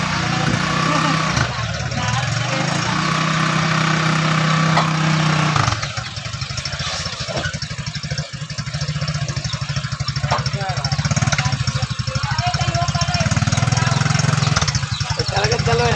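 An engine runs steadily throughout, a loud continuous mechanical rumble with a brief dip midway, with voices talking beneath it.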